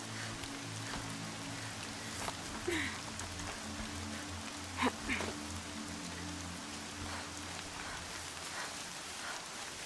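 Continuous rain patters in Horizon Zero Dawn over a low humming game ambience, with a few faint clicks and brief soft tones rising above the steady wash.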